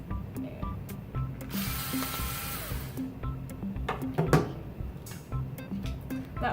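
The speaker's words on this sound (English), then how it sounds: "we're going to remove the body with a powered screwdriver" Powered screwdriver removing screws from a toy train engine body, a buzzing whir with ratcheting clicks near the microphone, one brief louder burst partway through.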